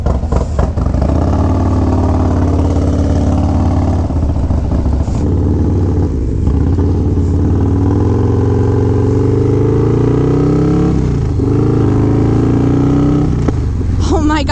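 A 151 HP Harley-Davidson motorcycle called Goldzilla pulls hard under acceleration, a loud, steady low engine roar rising in pitch with wind rush throughout, close and continuous.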